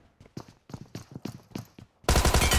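Burst of automatic gunfire in PUBG, a dense loud volley of rapid shots arriving abruptly after a run of several separated, punchy single reports or footsteps-like thuds.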